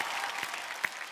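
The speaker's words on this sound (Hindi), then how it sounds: "जोरदार तालियां हो जाए." Applause from an awards-show audience, a short spell of soft, steady clapping at a moderate distance with one sharper clap standing out.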